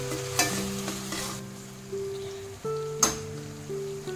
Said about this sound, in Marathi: आता हे परतून झालं की यामध्ये बारीक चिरून घेतलेलं टोमॅटो घालते